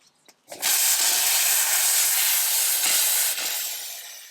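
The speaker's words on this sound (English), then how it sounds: "I used my steamer to get it softer and easier to take it off" A steamer lets out a strong, continuous hiss as it softens old wallpaper on a cabinet top. The hiss starts after a few small clicks and slowly fades toward the end.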